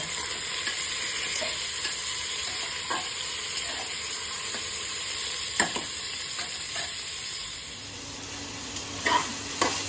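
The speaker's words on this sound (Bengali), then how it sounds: "চিকেনটাও একটু ভাজা ভাজা করে নেব" Chicken fries in a pan with a steady, dense sizzle, broken by a few soft stirring knocks and scrapes nearby.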